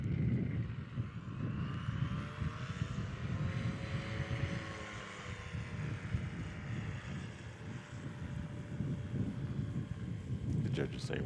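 A small STOL airplane lands high in the Rocky Mountains, its propeller engine a steady droning roar mixed with gusty wind noise on the microphone, holding near and loud throughout.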